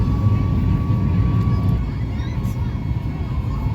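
An airliner lifts off, heard from inside the cabin as a steady, loud roar of engine and rushing air with a faint thin whine above it, under a low murmur of voices.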